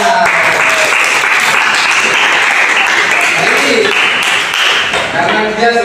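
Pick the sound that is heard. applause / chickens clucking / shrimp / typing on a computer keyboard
applause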